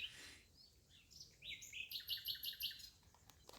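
A mixed flock of small birds chirps and twitters in a hedgerow, with a rapid run of bright, high calls clustering in the middle and quieter scattered notes before and after, fairly close and otherwise undisturbed.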